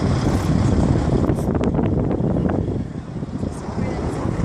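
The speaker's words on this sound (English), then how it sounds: "Wind blowing toward the fire right now." Strong wind buffets the microphone during a brushfire at Cajon Pass, a loud continuous roar of rushing air with low rumble, steady throughout and close.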